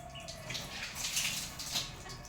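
Water pouring and splashing while an elderly woman is bathed, a soft, fairly faint gushing that swells and eases in uneven waves.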